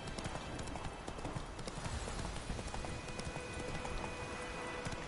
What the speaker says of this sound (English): you're so offended by the fact I'm riding a horse out here on the dock.